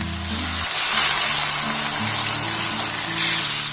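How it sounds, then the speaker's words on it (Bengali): A pot of water is at a rolling boil on a gas stove while a potato goes in, a steady close bubbling and gushing hiss with low clunks near the start and no talk. "জলটা দেখুন ফুটতে শুরু করে দিয়েছে এবার আলুটাকে এর মধ্যে আমি দিয়ে দেব"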